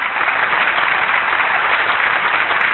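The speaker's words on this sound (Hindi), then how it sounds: "अच्छा, एक दफा फिर तालियां बजाइए।" An audience at a live comedy show claps enthusiastically, a loud, dense and continuous burst of applause that holds steady throughout without any voices over it.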